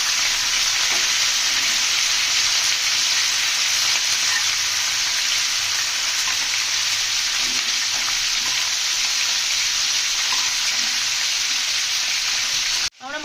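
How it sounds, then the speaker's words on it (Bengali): Steady, loud sizzling of chicken frying in hot oil in a frying pan over low gas, a continuous crackle that fills the whole stretch with no talking. "মাংসগুলো তেলের মধ্যে দিয়েছি গ্যাসটা আস্তে করে ভেজে নেব কিন্তু ভালোভাবে ভেজে নেব"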